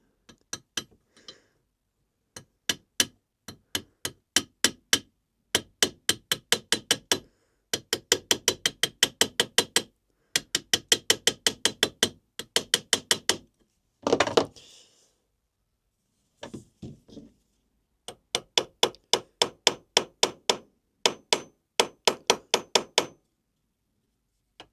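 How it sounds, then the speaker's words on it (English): A hammer peens the edge of a motorcycle fork thread in a workshop, striking in quick metallic bursts of rapid taps separated by short pauses, crisp and close with no talking. "Peen down a little bit on the edge."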